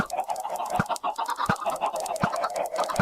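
Minecraft chickens clucking in a game farm, a busy layered stream of short clucks with a few sharp popping clicks, steady and fairly close with no talking.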